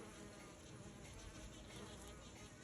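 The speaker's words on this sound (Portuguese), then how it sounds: "Bem ao meu lado aqui também, ó, as abelhas mirins." Mirim stingless bees swarm with a dense, steady buzz at a meliponary in the Mantiqueira mountains, the close, continuous droning of many small bees filling the air without pause.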